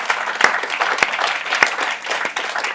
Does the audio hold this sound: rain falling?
no